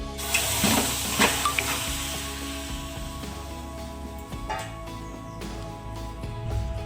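Raw chicken, about one kilo and tossed with a little turmeric, is rinsed under running water in a kitchen sink; a steady splashing stream runs throughout, with a few louder sloshes near the start.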